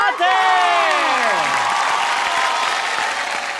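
Audience applause at a Hindi poetry recital, a dense sustained wash of clapping under a poet's drawn-out, swooping voice.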